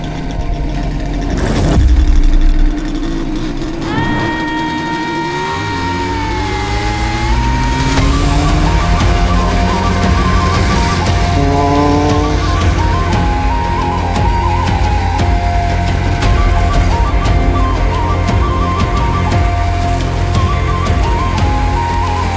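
An IZh Jupiter motorcycle engine revs up during a race, its pitch climbing in repeated accelerating pulls over a steady loud, close engine drone, with no talking.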